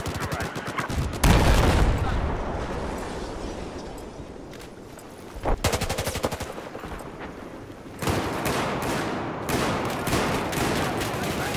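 Rapid bursts of automatic gunfire from Battlefield 4 on the Golmud Railway map, loud and close, with repeated volleys separated by brief lulls and a voice speaking at times.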